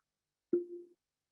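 A single electronic beep from a smart oven turning off, steady and mid-pitched, lasting under half a second against silence.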